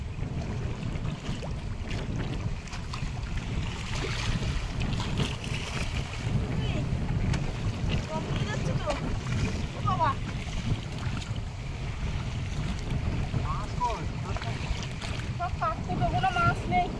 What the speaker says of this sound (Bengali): মাঝে মাঝে নৌকা কিন্তু জল তুলে দিচ্ছে,